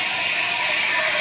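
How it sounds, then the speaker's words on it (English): An espresso machine's steam wand heats milk on a Vibiemme Electronic Super HX, giving a loud, steady, broad hiss that stays constant and close throughout. "It's just you are steaming the milk until it gets hot"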